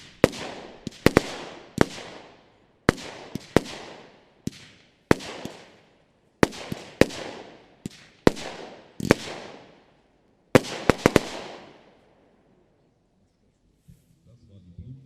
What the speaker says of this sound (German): Und wir starten mit der Nummer 50, Nordlicht, die Blutgrätsche, 20 mm, 16 Schuss